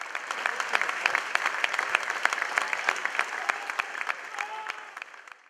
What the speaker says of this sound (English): If they can applaud for a minute, pay tribute to Dylan Tombides.